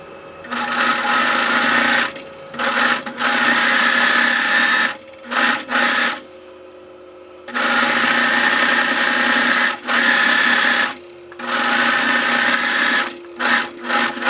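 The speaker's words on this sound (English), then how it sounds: "Well, first I'll get my serger going. Get these edges all serged up." A serger overlock machine stitches along fabric edges in several bursts of fast, buzzing whir, each lasting a few seconds with short quiet pauses between, loud and close with no voices.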